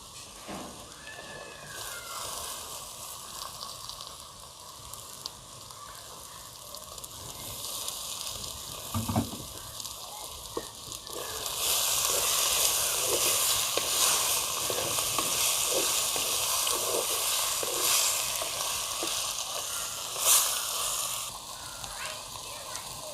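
Steady sizzling of chopped tomatoes frying in hot oil for tilapia fish curry, growing louder partway through, with occasional stirring clatter and a voice speaking over it.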